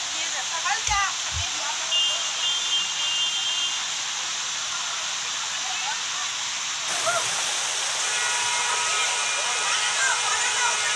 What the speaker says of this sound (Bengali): ওয়াটারফলটা আছে উপরে একদম, ওইটা হচ্ছে সবচেয়ে বেশি বড়।